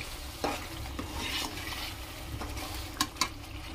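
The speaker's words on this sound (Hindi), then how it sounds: "अब हम इन सारे मसाले को थोड़ा भूनेंगे।" Spices and tomato for a mutton kofta curry being stir-fried in an Indian-style pan, with a steady sizzle broken by spoon scrapes and a few sharp clinks against the pan.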